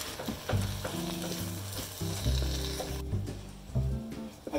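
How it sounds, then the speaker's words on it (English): Food sizzles loudly in a hot frying pan as a whole tin of canned tomatoes is added and stirred, with faint background music. "In go the tomatoes,"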